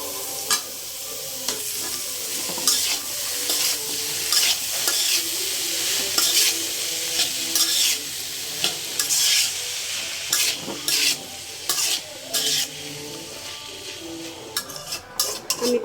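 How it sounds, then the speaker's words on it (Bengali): Banana stem stir-fried with fried spices in a pan, with steady sizzling and repeated scraping, clattering stirs of a utensil against the pan, close and continuous, with no talk. "এই যে আমার মশলাগুলি ভাজা হয়ে গেছে, এখন আমি এটা দিয়ে দিব ঠোঁটটা"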